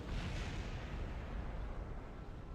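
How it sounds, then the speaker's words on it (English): A rocket explodes in Kerbal Space Program, producing a dense rumbling blast that roars steadily and slowly fades over a couple of seconds, with no voices. "Explosion was expected."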